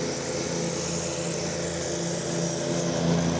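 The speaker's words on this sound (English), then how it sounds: "We're about to welcome Flight 941 from Monterey," An Airbus A319 landing at DFW Airport gives off a loud, close, continuous engine drone with steady low tonal hum and broadband whine, unbroken and with no voices.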